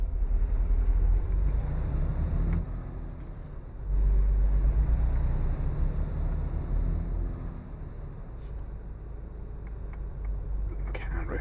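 A Freightliner Cascadia truck engine rumbles low and heavy as it pulls away in drive, the note rising as it gains speed, heard from the cab with a person talking over it.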